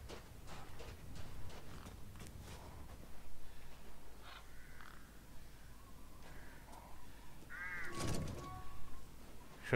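Ravens in Resident Evil Village, a few distant, faint cawing calls scattered over a murmuring ambient background, with one clearer harsh caw near the end.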